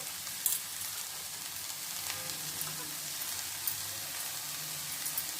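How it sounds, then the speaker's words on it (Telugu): Chopped coriander leaves frying in a pan while making sponge-style pongnalu dosa batter, giving a steady close sizzle with a few small pops and no talking. "దీన్ని కూడా కొంతసేపు వేపుకోవాలి."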